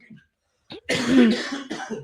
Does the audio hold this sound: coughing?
yes